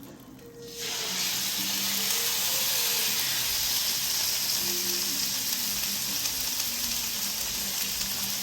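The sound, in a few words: chuck roast searing in olive oil in a pan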